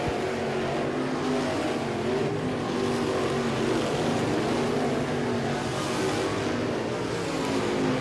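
Race cars circle a dirt track at night during the Bubba Army Winter Nationals 2019 feature, engines droning and swelling as they pass at a moderate distance, a continuous layered roar with no talk.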